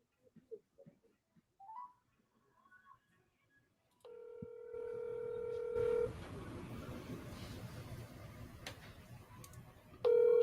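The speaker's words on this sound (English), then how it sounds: "let's get somebody else on the phone here" Telephone dialing tones for placing a call, with a steady electronic tone and short beeps after a few quiet clicks, at moderate loudness with some background noise.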